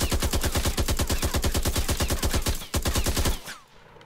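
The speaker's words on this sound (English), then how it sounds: "we can fire automatically. Hold down the trigger, it'll fire." Rapid automatic gunfire from a weapon in an Unreal Engine 4 video game, a steady loud burst of about thirty evenly spaced shots that cuts off sharply near the end, leaving a short fading tail.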